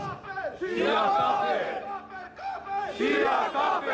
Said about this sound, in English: He was holding out the mic when the crowd chanted Shia kafir.